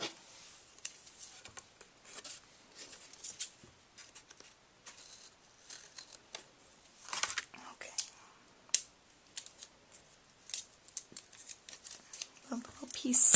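Scissors snipping through an XL glue dots sheet in a papercraft setup, with a series of quiet, irregular cuts and small rustles close by, and a voice speaking softly between them.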